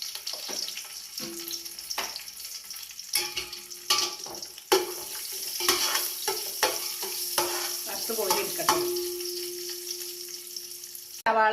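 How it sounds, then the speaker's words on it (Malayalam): Cashew nuts and raisins frying in a pan for beef biryani, with a soft steady sizzle, scraping and clinking stirs, and sharp utensil knocks at intervals, close up, plus a brief stretch of running water. "അണ്ടിപ്പരിപ്പും കിസ്മിസും തന്നെ വറുത്തിട്ടിങ്ങ് കോരിയിടുക"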